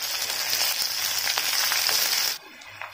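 Chopped onions frying in hot oil with cinnamon and bay leaf for an Odia black chicken curry, a steady loud sizzle with faint stirring scrapes, cutting off abruptly near the end.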